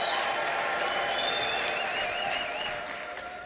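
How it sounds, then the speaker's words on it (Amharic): A church congregation applauds loudly in a continuous wash of clapping with faint voices and whoops mixed in, tapering slightly toward the end. "ከባድ ጩኸት ከባድ ጭብጨባ"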